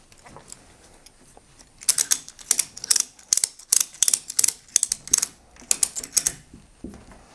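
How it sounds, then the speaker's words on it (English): A ratchet strap is tightened through the fastener of a washer dryer stacking kit, giving quick runs of sharp mechanical clicks in uneven bursts, close and fairly loud, after a quieter start. "Then you just need to tighten it up."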